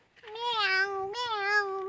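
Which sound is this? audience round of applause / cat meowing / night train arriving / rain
cat meowing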